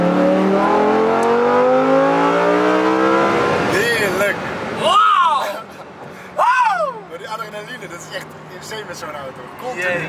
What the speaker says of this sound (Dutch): dan moet je even dat gaspedaal naar beneden trappen